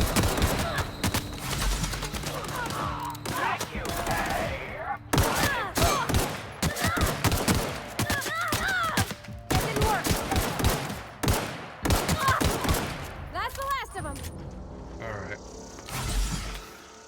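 Gunfire in the video game The Outer Worlds, with rapid bursts of shots and automatic fire cracking repeatedly across the whole stretch, loud and dense, with some mechanical clicks and a voice talking over parts of it.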